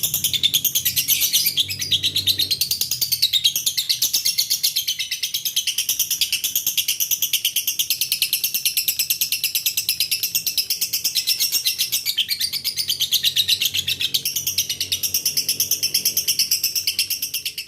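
A lovebird chirps continuously in rapid, high-pitched trills and tweets, loud and close, playing back from a recording without any talk.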